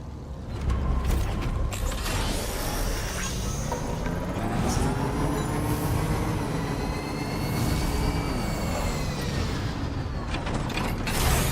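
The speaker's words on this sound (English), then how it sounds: "I've never seen a working monorail before" A working monorail in Death Stranding 2 glides along, giving a steady mechanical rumble with creaking, whining tones that rise and fall, heard alone without talk.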